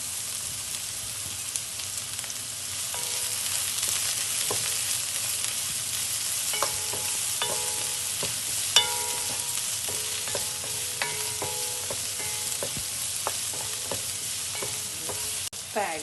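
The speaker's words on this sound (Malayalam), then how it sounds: "കറിവേപ്പില ഇട്ട് കൊടുക്കാം." Curry leaves sizzle and crackle in hot oil in a pan while a Kerala-style green peas curry is being cooked, a steady frying hiss with scattered sharp pops and a few spoon stirs, close by and with no talking.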